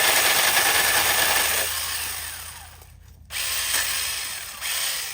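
A small pole saw trims cedar tree limbs beside a driveway, its motor whining loud and steady, easing and dipping, cutting out briefly, then revving back up, close and with no talking.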